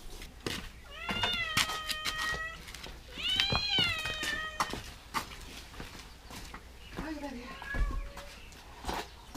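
Several cats meow in a yard, two long clear meows followed by shorter, softer mews, close by with background noise and occasional talk.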